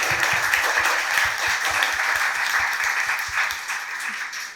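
A seated audience at a British Beauty Week talk with makeup artist Val Garland claps steadily and evenly for a few seconds. The applause is fairly close and continuous, with no voices over it.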